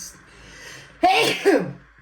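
A single close, sharp sneeze bursts out after a stretch of quiet room noise, with a brief breathy tail.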